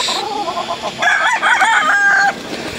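Several gamefowl roosters crow at ARL Gamefarm in Bacolod Silay, overlapping cock-a-doodle-doo calls close and loud, with other birds in the background.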